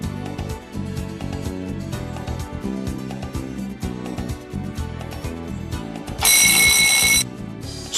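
A smoke detector sounds after a smoke test spray: a loud, shrill high-pitched alarm burst of about one second rises over busy background noise and then stops.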